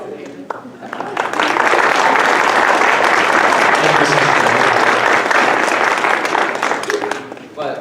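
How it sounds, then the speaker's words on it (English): Audience at a live one-act play breaks into sustained applause, a dense wash of clapping that swells after the first second and holds loud and steady, with faint voices mixed in. "We need to give a big round of applause."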